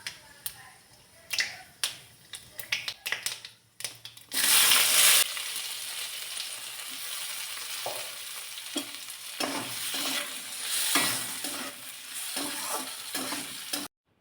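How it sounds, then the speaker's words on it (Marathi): Mustard seeds hit hot oil in a wok, first with scattered sharp pops and crackles, then a loud burst of sizzling that settles into steady frying with intermittent spattering pops, close up and with no talking. "सुरुवातीला मोहरी घातली."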